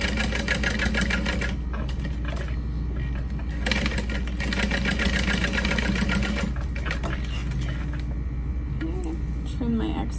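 A sewing machine hums continuously while top stitching two parallel lines on a duffel bag, its motor drone steady and close, with a few brief pauses in the whirring.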